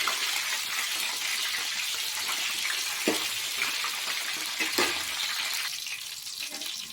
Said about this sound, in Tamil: இந்த முழு கத்திரிக்காயாவது எண்ணெயில் இந்த மாதிரி நல்லா வதக்கிக்கோங்க